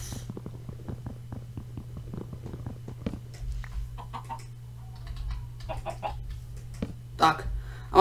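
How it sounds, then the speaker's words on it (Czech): Minecraft chickens cluck in short soft bursts over a low steady hum, with a few scattered clicks and taps and a brief louder cluck near the end. "Tak, a máme slepičky."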